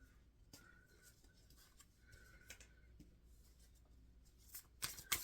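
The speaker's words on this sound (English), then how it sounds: "I am shuffling for the concluding message" Tarot cards being shuffled by hand, soft papery riffles and taps at low volume, growing a little louder toward the end.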